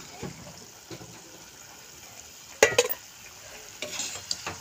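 Koi fish curry in a light spiced gravy simmers and bubbles in a pot, a soft steady sizzle with a sharper burst of popping and a couple of small splashy spikes midway.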